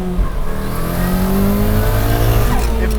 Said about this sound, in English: there's like wastegate, turbo, that angry four-cylinder kind of alpha thing going on